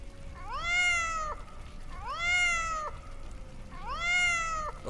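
A cat meows three times in succession, each call a long, clear, rising-then-falling cry at moderate loudness over a quiet background, with no talk.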